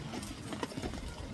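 Horse hooves clip-clop on a wagon train ride, a steady mid-distance rhythm under outdoor wind noise, with a brief brighter knock near the middle and faint voices.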